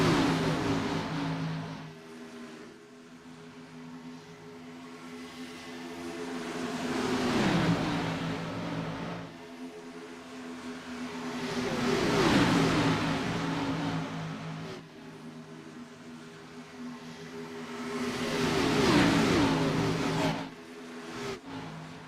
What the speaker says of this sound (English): We can hear those RPMs pop up just a little bit here, which means that he is in the draft of the 10.